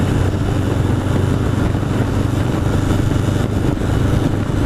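A 1981 Honda CB750 Custom motorcycle engine running on a Sunday ride, a loud, close, steady engine rumble with a broad droning roar and no speech.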